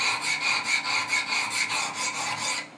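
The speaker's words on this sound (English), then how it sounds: "I'm going to sharpen on the left side now" A Benchmade 940 knife being sharpened on a Wicked Edge sharpener, close rhythmic scraping strokes of the stone along the blade, about a dozen quick even passes in a row with no talking.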